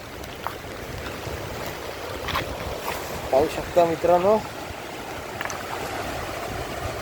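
A flooded river rushes in a steady, broad roar of churning water mixed with gusty wind buffeting the microphone, while someone speaks briefly over it in the middle.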